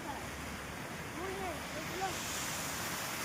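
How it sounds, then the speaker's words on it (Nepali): A river flowing right beside a house, the Nandi River, gives a steady, continuous rush of water with faint voices in the background. "हाम्रो घर छेउमा छ नि त नदी यो चाहिँ नन्दी रिभर भन्छ"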